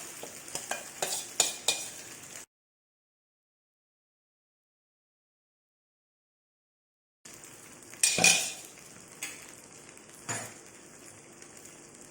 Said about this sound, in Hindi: अब हम इसमें मक्के के दाने को जो हमने क्रश किया था वो डाल देंगे। इसे धीमी आंच पर पकाना है।